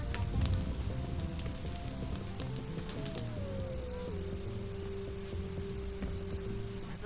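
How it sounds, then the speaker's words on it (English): Steady rain in the video game Bugsnax patters on surfaces with scattered drops, and a faint tonal hum drifts underneath. "It's raining, Philbo."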